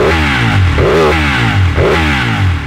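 Ducati Panigale 1199 motorcycle engine revving up close, the tone climbing and falling in two sharp throttle blips over a continuous, loud mechanical drone.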